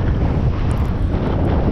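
Steady wind buffets the microphone at a paragliding launch site, a loud, continuous low roar with no pauses throughout.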